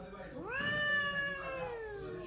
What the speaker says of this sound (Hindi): ये हमारी मानो बिल्ली जो है वो अटेंशन चाहती है, ज़रा आगे सुने कि ये क्या करता है।